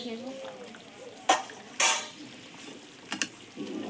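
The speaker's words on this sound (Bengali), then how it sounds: "তাই আমি ঝোলটা একটু নেড়ে দেবো" A thin fish curry with beans is stirred in a pan, making a low simmering sizzle with a few distinct scrapes and clinks of a utensil against the metal, close up, with no speech.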